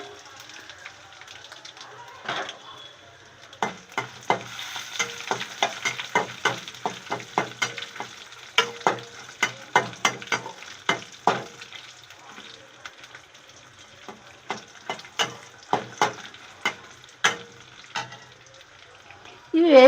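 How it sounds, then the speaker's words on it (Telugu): Cumin, pepper and cardamom fry in a pan, giving a steady close sizzle broken by many sharp crackles and pops of spices bursting in hot oil, running throughout with no talk. "ఇవన్నీ వేసి బాగా వేయించుకుందాం."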